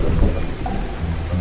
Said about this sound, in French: Pourquoi pleut-il? Pourquoi pleut-il maintenant?